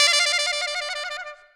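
Saxophone playing a rapid chromatic trill on high B using the top side key, a bright, buzzy tremolo that fades away over about a second and a half, heard alone.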